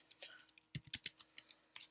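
Keys click on a computer keyboard in short irregular bursts of typing, close and quiet, with a faint hum underneath.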